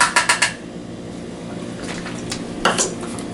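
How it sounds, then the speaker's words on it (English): A spoon stirs buttermilk into a cornmeal biscuit mixture in a bowl, opening with several quick knocks against the bowl, then soft wet scraping and a few more clinks, close up with no voices. "And we'll stir until the mixture is just moistened."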